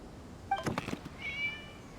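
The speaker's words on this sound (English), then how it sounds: "It was just a cat." A cat meows twice in the video game Genshin Impact, a short rising cry followed by a longer drawn-out one, heard close and fairly faint with no talk over it.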